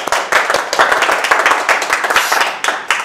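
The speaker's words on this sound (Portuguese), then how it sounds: "uma salva de palmas" An audience claps in quick, dense applause that stays close and loud throughout, without any voices.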